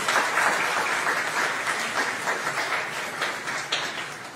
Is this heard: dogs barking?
no